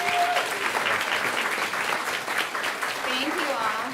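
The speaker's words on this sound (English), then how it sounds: "Keep giving a round of applause." Audience applause at a chefs' event rolls on steadily for a few seconds, moderately loud, with voices talking over the clapping.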